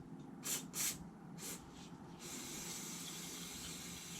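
Carburetor cleaner sprays onto a metal Vespa carburetor part in a few short hissing bursts, then one longer steady spray, all fairly quiet and close.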